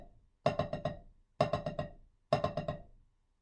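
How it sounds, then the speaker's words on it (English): Three evenly spaced groups of four quick drumstick strokes on a drum, the single stroke four rudiment, crisp and close with short pauses between groups and no talking. "The single stroke 4 is one of the many variations of the single stroke roll."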